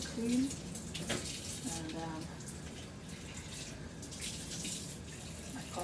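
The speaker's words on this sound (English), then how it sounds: "I wash my hands very well. Very, very well. Get them clean." Tap water runs steadily into a sink as hands are washed in a home kitchen before cooking, a continuous close splashing hiss with a brief spoken word near the start.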